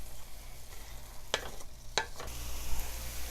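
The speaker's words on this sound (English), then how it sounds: "You're going to want to saute your carrot and zucchini probably a good 5 to 7 minutes." Carrot and zucchini sauté in a pan with a low, steady sizzle, broken by two sharp scrapes of a utensil against the pan partway through, quiet and close, with no speech.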